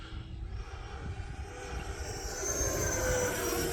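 An E-flite Viper 90mm RC jet flies an inverted pass at full speed with a steady, distant turbine-like whoosh and roar that swells slightly louder toward the end.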